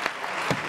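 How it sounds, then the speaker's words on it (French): A live studio audience claps together, a brief, even burst of many hands at moderate loudness with no talking on top. "Applaudissez pour Yoblay, s'il vous plaît, Yoblay"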